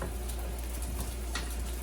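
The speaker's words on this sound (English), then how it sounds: "I'm gonna let this fry up" Spam sizzles steadily in a hot pan at a low, even level, a continuous crackling fry with no talk over it.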